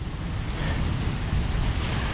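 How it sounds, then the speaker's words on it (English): Rough ocean surf breaking on a shore makes a steady, close roar of churning water mixed with gusty wind buffeting the microphone, with no voices. "this ocean's really rough today"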